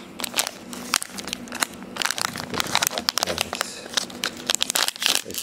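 Scissors cut open the packaging of a Tuya USB Pro WiFi remote power reset switch, with close crinkling, crackling plastic and sharp snips in irregular bursts throughout.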